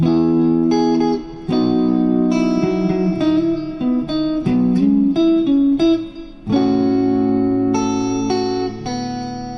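A guitar plays a short chord-melody phrase from a song, ringing chords with moving top notes, slides and brief pauses, sustained and slightly processed with ambience.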